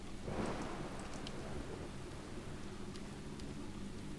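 Rain in the video game Deadly Premonition: Nightmare Forest, a steady wash of falling rain with a low rumble swelling early on, alone without talk.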